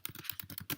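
Quick, light keystrokes on a computer keyboard as a question is typed, about eight close, evenly spaced clicks in under a second, fairly quiet with no voice.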